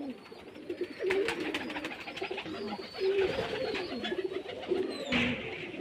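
Several pigeons coo steadily at a pigeon farm in Rajshahi, low burbling calls repeating in overlapping waves, close and moderately loud, with no one speaking.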